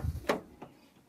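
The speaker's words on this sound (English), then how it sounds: "Open the rear doors and we show you what's in the back." Rear doors of a Maui Ultima two-berth campervan being opened: a sharp latch click followed by a softer second knock about a third of a second later, close and fairly quiet, with no talking.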